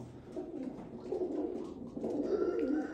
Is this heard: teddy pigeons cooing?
yes